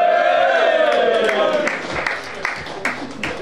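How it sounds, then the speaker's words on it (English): Crowd at an esports LAN grand final cheering and clapping, a loud roar that rises at first and then breaks into scattered claps and shouts as it fades. "A cheer for all the production!"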